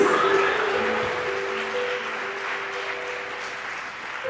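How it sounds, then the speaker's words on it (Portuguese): A church congregation applauds loudly during a worship service, a dense, sustained wash of clapping that fills all four seconds at steady strength, with a faint held musical tone running underneath. "Diga glória a Deus e aplauda ele bem forte."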